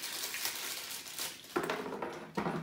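A stiff plastic bag crinkles and rustles as it is handled while unpacking a microphone arm and its desk mount, soft and close, with sharper crackles coming in bursts toward the end.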